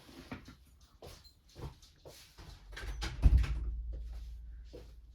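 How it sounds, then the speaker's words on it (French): A door being shut indoors, a low solid thump followed by a brief rumble, preceded by scattered soft handling noises at close range. "voilà, j'ai fermé la porte."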